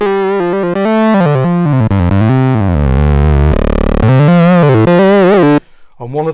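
Sequential Prophet-6 synthesizer played through its analog distortion unit, sustained gritty buzzing notes and chords that slide between pitches, loud and upfront, then cut off abruptly near the end.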